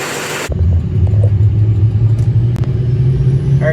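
A Duramax diesel pickup truck, blowing heavy white smoke, idles with a deep, steady rumble close by after a brief burst of hiss at the start, with no talk.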